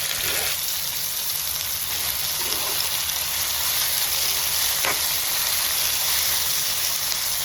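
Onions and spices sautéing for a Sri Lankan chicken curry make a constant, rain-like hiss, with a few brief scrapes from stirring.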